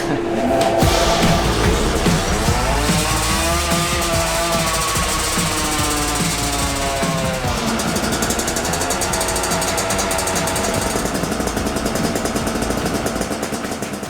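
A 2022 Yamaha YZ125 two-stroke motorcycle runs hard on a dyno, its loud, raspy engine note climbing and falling in pitch as it revs, sustained and close for the full stretch with no voices.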